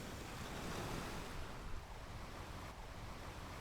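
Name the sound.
sea waves on a beach, audio drama sound effect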